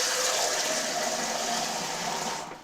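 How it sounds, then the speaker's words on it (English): Steady rushing and gurgling of water pouring into a pellet pump container for fishing bait preparation, continuous and fairly soft, tapering slightly at the end. "You want to fill it up with water."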